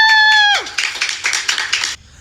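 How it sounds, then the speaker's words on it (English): A single person claps in a quick, uneven run of sharp, close slaps lasting about a second and a half, following a brief sustained electronic tone. "who the hell is clapping for this nonsense?"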